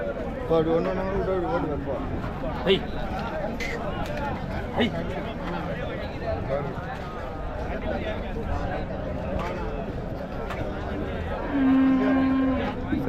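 Cattle at a busy Friday livestock market in Uthangarai low and moo repeatedly, near and far, amid a steady crowd murmur and someone talking throughout, with one long loud moo near the end.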